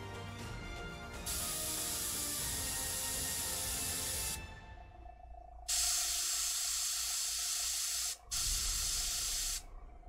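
An airbrush sprays paint in several sustained bursts of steady hiss, close and clear, separated by short quiet gaps, with faint background hum.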